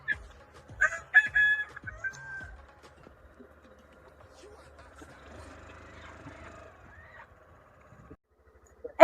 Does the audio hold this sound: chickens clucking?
yes